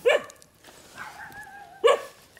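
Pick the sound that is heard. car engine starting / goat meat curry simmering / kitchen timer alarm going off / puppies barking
puppies barking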